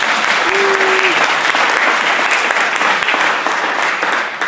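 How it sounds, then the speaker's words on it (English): A crowd applauds the panel at a Nashville forum on development and preservation, loud sustained clapping close by that holds steady, then eases slightly near the end. "I'll give them a round of applause."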